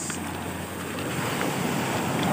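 Strong ocean waves crash steadily at a seaside camp in rough weather, a broad continuous roar of surf with wind buffeting the microphone, no voices.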